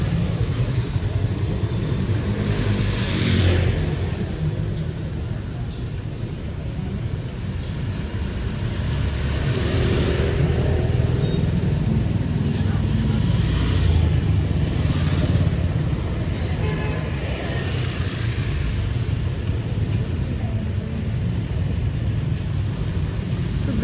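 Motorcycles fill an evening street in Da Nang, their engines forming a loud, continuous traffic drone with passing bikes swelling and fading nearby, mixed with wind buffeting the microphone.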